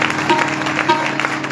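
A church congregation at a live worship meeting claps loudly and continuously, a dense steady wash of applause close up with no clear individual claps.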